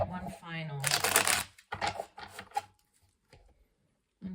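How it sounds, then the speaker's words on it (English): Tarot cards being shuffled by hand in a few quick riffling bursts, close and crisp, with a person talking over and between the shuffles before the sound trails into quiet. "we will go ahead and just shuffle and get one final"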